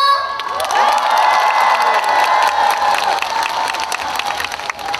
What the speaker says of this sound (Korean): 준비하시고 박수 함성!